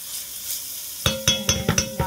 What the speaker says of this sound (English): And so while this is sauteing, you want your vegetables to get like a translucent